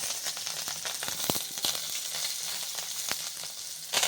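Curry leaves and coriander crackle in hot oil for Chettinad idli sambar, a dense, steady close sizzle with scattered sharp pops throughout.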